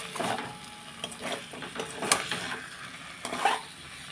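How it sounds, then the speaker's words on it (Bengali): Potatoes stir-fried in oil on a low flame for kosha alur dom, a soft sizzle under a few scraping spoon strokes and clinks close by, no talk. "ফ্লেমটা লোতে রেখে আলুটা খানিকক্ষণ কষবো।"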